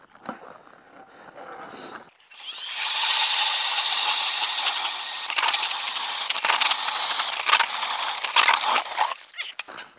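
A power auger drill starts up and grinds steadily through ice on Lake Winnipeg for several seconds, loud and close, then winds down.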